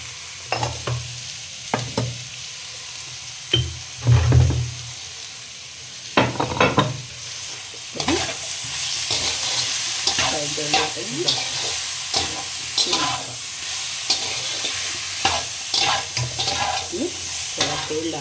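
Potato and radish curry sizzles and fries in a kadhai, with repeated scraping and stirring strokes against the metal pan over a continuous frying hiss.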